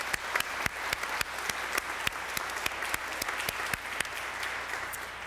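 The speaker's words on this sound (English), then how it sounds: "So please join me in a round of applause for Mr." A forum audience breaks into applause, a dense, steady patter of many hands with a few sharp louder claps standing out, continuing evenly for several seconds.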